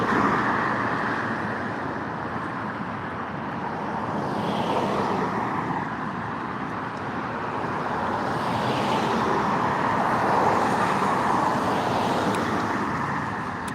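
A Dodge Charger pulls away on a test drive, its engine and tyre noise a steady broadband roar that swells and fades gently in a busy outdoor traffic setting.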